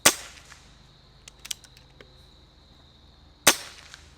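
Benjamin Cayden .22 PCP air rifle fired twice, each a sharp, loud crack about three and a half seconds apart, with a few small clicks and a faint ring in between.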